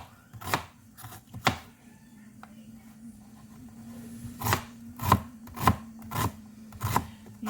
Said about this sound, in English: Now the onion, we're going to chop it up.